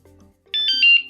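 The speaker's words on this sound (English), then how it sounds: "any movement will basically trigger the alarm" Anti-theft alarm on a Juiced Hyperscorpion e-bike: a soft low tone, then a loud, sharp series of four rapid high-pitched electronic beeps close up.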